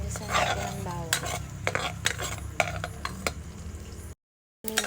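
Garlic sizzles in a pan while a utensil stirs and scrapes against the metal in repeated clinks, close up, breaking off briefly near the end with no talk.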